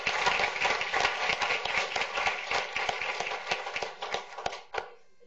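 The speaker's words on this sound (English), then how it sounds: "Let's give our RSS AP scholars who are with us tonight another big round of applause" A room full of people at an evening school board meeting gives AP scholars a big round of applause, dense sustained clapping with sharper individual claps standing out before it tapers off and ends abruptly.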